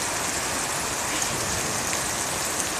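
Heavy rain pours steadily through a severe thunderstorm in Tarrant County, a dense, constant hiss close by with no breaks and no voices.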